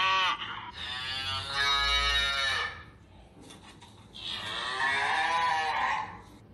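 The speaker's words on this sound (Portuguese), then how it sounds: "ouvimos o som que a vaca faz e ela muge" A cow on a farm moos twice, each call long, loud and drawn out with a rising then falling tone, separated by a short pause, heard alone and close.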